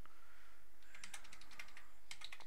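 Fingers type on a computer keyboard, a quiet start giving way to quick, close bursts of clicking keystrokes in uneven runs, with no speech.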